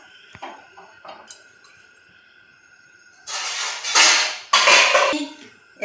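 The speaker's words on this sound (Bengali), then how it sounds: "এখন কড়াইটা বসিয়ে দেব।" A kadai (wok) is set onto a lit gas stove while pabda fish is being prepared, with a few light metallic clinks followed by two louder, rougher clattering bursts close by, no talking.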